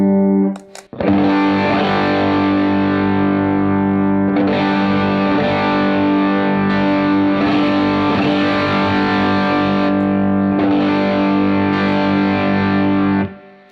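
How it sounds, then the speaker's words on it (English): Electric guitar through a Fender Santa Ana Overdrive pedal set to drive boost rings out in loud, saturated chords with long sustain, struck a few times after a brief pick noise, with no voice. "So I think we'll start with the drive boost, show you what more gain is like."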